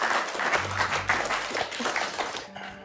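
A small group claps in brisk, uneven bursts for a couple of seconds, moderately loud, before the clapping thins out and a faint steady tone is left at the end.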